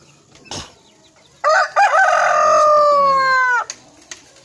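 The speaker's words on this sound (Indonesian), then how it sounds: "Dari tadi berkokok terus guys ini ayamnya" Joper rooster crowing in a chicken coop: one loud, close, drawn-out cock-a-doodle-doo lasting about two seconds, with a few faint clucks before it and no talk.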